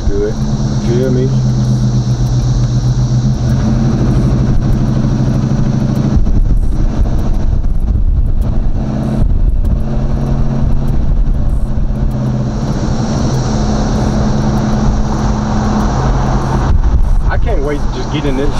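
Box Chevy with a stock small block engine cruising around town, a steady low engine rumble with surges as the throttle opens, heard from inside the car, with someone talking over it throughout.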